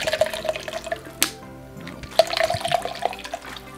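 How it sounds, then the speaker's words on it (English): Water poured from a bottle into a large plastic shaker cup for a flavored energy drink, a short splashing pour with a brief sharp spike partway through, fairly close and heard alone. "pour this water up"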